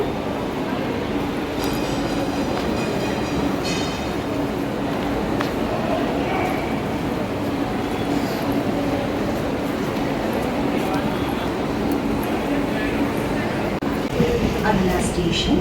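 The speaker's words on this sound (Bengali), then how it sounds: "এই ট্রেন ধরবো।" Train running on its tracks at night in Mumbai, a steady rumbling roar with faint clatter and occasional squeals, loud and continuous, with people talking over it.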